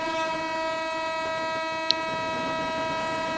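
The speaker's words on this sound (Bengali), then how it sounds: "তার সঙ্গে সঙ্গে এসে যে ট্রেন সেও কিন্তু ময়নাপুর ছেড়ে দিয়েছে" A train pulls out of Moynapur station on its first run, its loud sustained horn holding a steady multi-tone chord throughout, close by, with a brief sharp click partway through and no talking.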